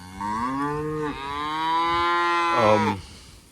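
Cattle moo loudly nearby, with a long drawn-out call that rises and wavers, and other lowing voices overlapping at the start and end.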